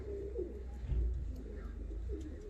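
White mantled show pigeons coo close by, a few soft low throaty coos rising and falling over a quiet background, with no talking.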